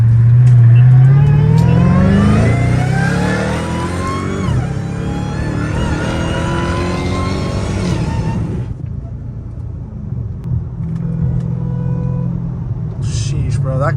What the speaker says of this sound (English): Hear the turbos on that crap too